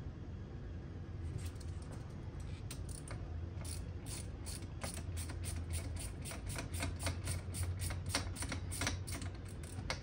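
Ratchet driving bolts into a Walker gearbox during a swap, a steady run of quick metallic clicks repeating close by over a low background rumble, with no talking.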